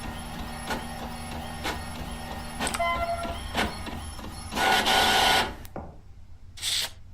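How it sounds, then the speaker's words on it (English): An old-time printer in a video game grinds and whirs steadily with regular mechanical ticks and clunks, then rises into a louder rasping burst near the end before cutting off, followed by one more brief high whine. "The horrors of hearing an old-time printer like that,"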